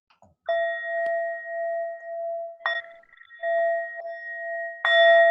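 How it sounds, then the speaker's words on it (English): A hand bell is shaken and rings in three bright, sustained chimes, each new strike layered over the fading ring of the last, loud and close with no talking. "This is just like a waking up bell."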